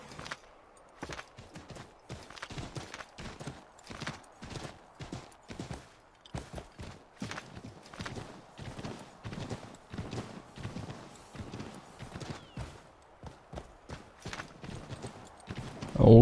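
Horse hooves clip-clopping on ground in Assassin's Creed III, a steady walking rhythm of fairly close, moderately quiet hoof beats continuing throughout, with a brief louder sound at the end.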